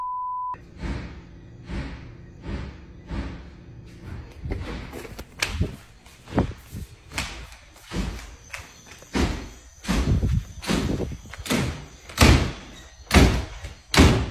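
Door slamming repeatedly, a regular series of about a dozen loud, sharp bangs and thuds, each followed by a short decay, after a brief beep at the start.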